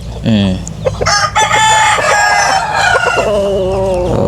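A super brown red gamefowl rooster crows loudly and close by in a long, wavering cock-a-doodle-doo, with clucks and other fowl noise around it and brief talk mixed in.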